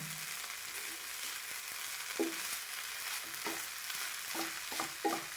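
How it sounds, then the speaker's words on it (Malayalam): Vegetables for a Kerala masala thoran fry steadily in a pan, with a soft continuous sizzle and occasional scraping taps of a spoon as they are stirred. "അതുവരെ നമുക്കിതിനെ ഇങ്ങനെ ആക്കി തന്നെ ഫ്രൈ ചെയ്തെടുക്കണം"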